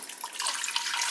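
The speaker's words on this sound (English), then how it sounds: "Next, we're gonna add 4 cups of vegetable broth." Vegetable broth pours steadily into a soup pot, a soft continuous splashing of liquid that holds even and close for about a second with no voices.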